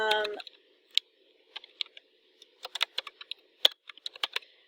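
Keys clack on a computer keyboard in short, irregular bursts, quiet and close, with brief pauses between groups of taps.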